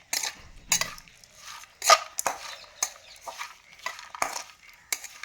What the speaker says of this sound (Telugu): ఇప్పుడు ఫ్రై చేద్దామండి.